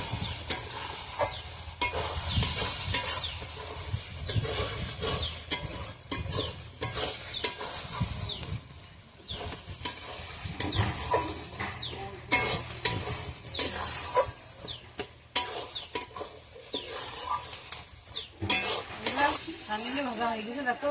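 Pakoras fry in a pan of hot oil, giving a steady, close sizzle with frequent stirring and scraping clatter throughout, while a voice talks intermittently over the cooking noise.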